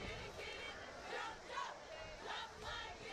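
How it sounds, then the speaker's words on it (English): Crowd at a high school football game at Milton Hershey School, a steady diffuse murmur of many voices with faint cheers rising and falling, moderately distant and fairly quiet throughout. "Very nice crowd here."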